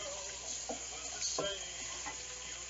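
Garlic and onion sizzle softly in a little hot vegetable corn oil, a faint continuous crackle with a few louder pops and stirring scrapes.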